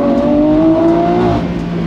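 Lamborghini Aventador SVJ roadster with a full exhaust system revving hard, a loud, close, sustained engine howl with rising tones that hold, then ease slightly near the end.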